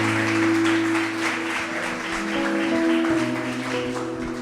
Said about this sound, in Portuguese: Vamos recebê-lo com alegria, com palmas